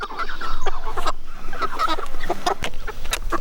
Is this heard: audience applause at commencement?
no